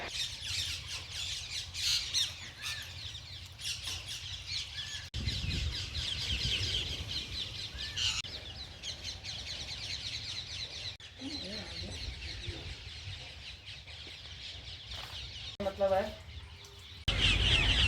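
A large flock of parrots gathered on wires after feeding in Chhapar town, Churu district, Rajasthan, keeps up a dense, shrill squawking and chattering, loud and close, with bursts of sharper calls and a voice speaking briefly.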